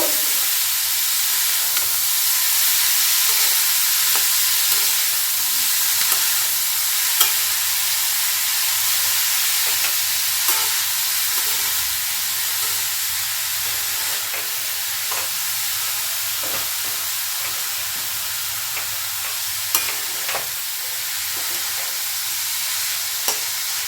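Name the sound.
sautéing cauliflower paratha filling in a pan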